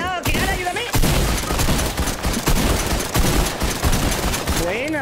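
Dense, continuous rapid gunfire from Fortnite gameplay fills the clip, loud and sustained throughout, with a few voices and short vocal sounds at the start and end.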